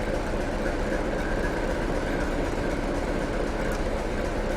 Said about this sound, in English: It's switched over to diesel. RPM's coming up, and we are moving.